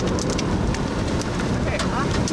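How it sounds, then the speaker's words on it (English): Hail pelts down during a close-range chase of a rare EF-4 tornado near Ashby, Minnesota, a dense, steady, loud clatter of impacts that fills the whole stretch, with voices mixed in. "Oh, hail!"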